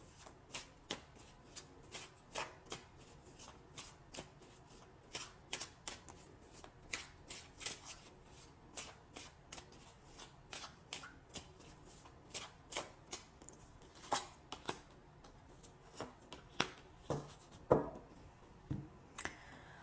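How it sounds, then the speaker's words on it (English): Tarot cards being shuffled nearby, heard as a steady series of crisp riffling snaps and taps in a rhythmic pattern over a quiet background, with no talking. "So now I'm going to choose two cards for possible outcomes for the week."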